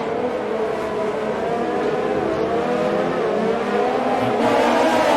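Race cars in an F1 video game at a Brazil race hold a steady, loud engine drone with layered whining notes, building slightly toward the end with no voices heard.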